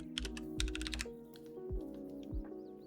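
Computer keyboard typing while entering a node name in Unreal Engine 5.6, a quick burst of close, crisp keystrokes followed by a few scattered, slower taps at moderate level.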